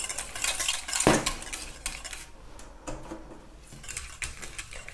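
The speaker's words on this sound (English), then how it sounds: "So we're just going to keep stirring to cool this down" Spoon stirring a hot white emulsion in a pot off the heat, with scraping and clinking against the vessel, one sharp knock near the start, then softer intermittent strokes.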